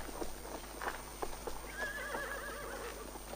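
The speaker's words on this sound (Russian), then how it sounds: "останови лошадь." A horse neighs and whinnies loudly and close while its hooves clip-clop in a steady rhythm, with faint background hiss and no clear speech.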